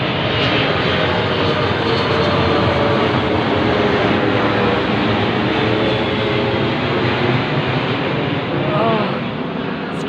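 A large airplane roars overhead near an airport on a murky day, a loud, steady broadband engine rumble sustained throughout with no break.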